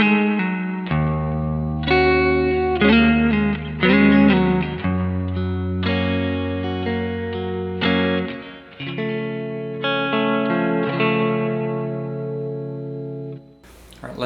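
Electric guitar played clean through a Keely Halo dual echo pedal on its reverb setting, ringing chords and single notes with a lush, sustained wash trailing each phrase, steady and close for the whole stretch.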